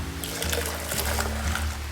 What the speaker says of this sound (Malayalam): കാണാൻ വേണ്ടി ഇവിടെ വെച്ച് ആറ്റിയാണ്